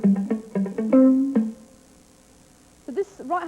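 Palm-damped electric guitar strings muted at the bridge saddles with the side of the right hand, run through chorus: short percussive plucked notes in a quick rhythm, then a pause and a few more muted plucks, played alone.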